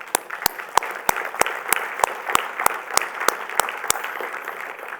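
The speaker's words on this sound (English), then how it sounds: "I want to give SCORE a round of applause." Audience at a leadership forum clapping steadily for a few seconds, a moderate crowd applause with one close set of hands beating out sharp regular claps.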